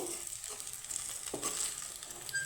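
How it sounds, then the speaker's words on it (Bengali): Fritters of flattened rice and onion fry in a pan with a soft, low sizzle. A brief scrape of turning cuts in partway through the short, quiet stretch, and no one speaks. "খুব সুন্দরভাবে এটা ভাজা হয়ে গেছে"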